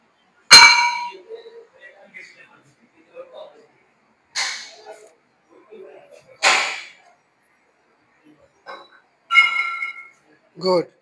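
Metal dumbbells clank during a dumbbell fly chest exercise in a gym, a handful of sharp, ringing clinks spaced several seconds apart, with someone talking in between.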